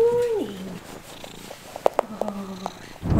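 A domestic cat purring and making short meows close by indoors, with a drawn-out vocal call at the start followed by soft rhythmic purrs and small chirps.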